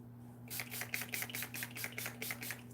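Makeup setting spray misted onto a face, heard as a rapid series of about eight soft, hissy spritzes in steady rhythm, close and fairly faint over a low electrical hum.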